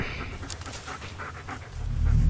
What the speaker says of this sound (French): J'essaie de trouver le chien.